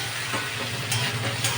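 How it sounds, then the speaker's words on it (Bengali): Vegetables sizzle and fry in a pan for a homemade vegetable stew, a close, continuous crackling hiss with a few brief louder bursts, as if from stirring. No one speaks. "সবজিগুলো ভালো মতো ভাজা হয়ে গেছে।"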